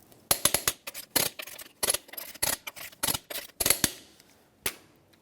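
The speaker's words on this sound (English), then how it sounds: "we're going to continue on torquing each one of our lug nuts to 150 foot-pounds in a crisscross manner" Torque wrench clicking sharply as lug nuts on a 2004-2008 Ford F-150 wheel are tightened to 150 foot-pounds, about a dozen loud close clicks in quick irregular bursts with no talk.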